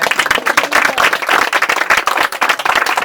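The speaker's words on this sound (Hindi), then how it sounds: "ताली तो बजानी चाहिए आपको इस बात पे।" Church congregation clapping during a sermon, a brisk, close burst of many hands applauding steadily for a few seconds.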